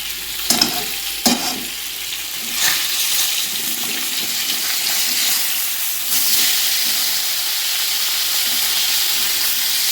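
Cauliflower florets sizzling and frying in hot spiced oil, a steady broadband hiss with occasional louder crackles and stirring clatter near the start, continuous and close with no voices.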